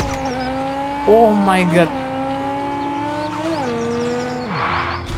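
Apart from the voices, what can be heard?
car exhaust popping and engine in Car Parking Multiplayer video game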